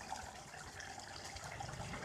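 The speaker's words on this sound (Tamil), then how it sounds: "நம்ம தேங்காய் பால் ஊற்றலாம்" Coconut milk, the first thick extract from ground coconut, is poured into a simmering chicken kuzhambu, giving a steady soft liquid gush and trickle that runs unbroken, moderately close, with no voices.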